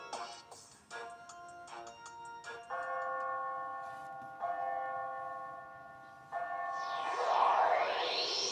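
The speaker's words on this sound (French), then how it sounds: "Bon, sonne cette cloche." A bell rings in the Yo-kai Watch 3 video game, with a series of bright chiming tones over a soft ambient game backdrop, sustained ringing notes building into a louder shimmering swell at the end.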